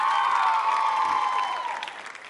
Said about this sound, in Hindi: तालियां बजाइए जोरों से इनके लिए।